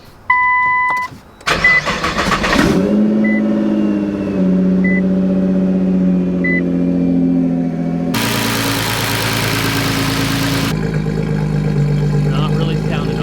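A Nissan GTR with newly installed 1300cc injectors and a front mount intercooler cranks and fires up, the starter whirring before the engine catches and settles into a steady, somewhat rough idle with a brief rev, loud and close.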